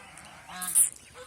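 Geese on a small backyard goose farm give a short nasal honk that rises and then cuts off, close by and loud, over a faint background.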